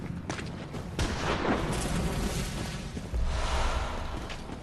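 Enemies firing down from a bridge in Bloodborne, heard as a loud, dense wash of booming gunfire and blasts with several sharp reports and a heavier thump near the end.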